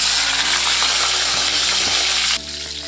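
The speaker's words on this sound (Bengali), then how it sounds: "একটু পটল আলুটাকে একটু ভেজে নিই।" Pointed gourd and potato fry in a pan with a loud, dense, close sizzle that holds steady, then drops abruptly to a quieter crackle near the end.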